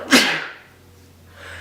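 One sharp, close sneeze bursts out at the start of a podcast conversation, then fades into low room hum and quiet.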